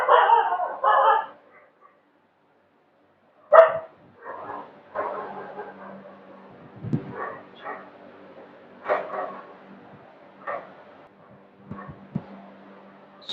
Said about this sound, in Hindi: कुत्ते भौंक रहे हैं, उसकी आवाज आ रही होगी